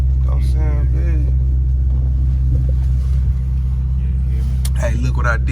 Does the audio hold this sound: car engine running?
yes